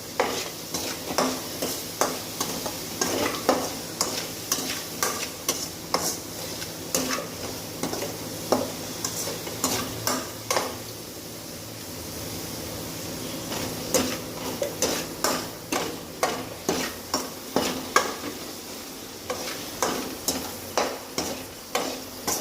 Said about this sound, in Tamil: இதை போட்டு நீங்கள் நல்லா மிக்ஸ் பண்ணுங்கள்.